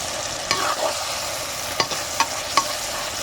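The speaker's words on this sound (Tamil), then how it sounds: "தக்காளி, பூண்டு இந்த அளவுக்கு வதங்கினா போதும்." Tomato and garlic sautéing in a pan, a close, steady sizzle punctuated by several quick scraping strokes of a spoon stirring the mixture.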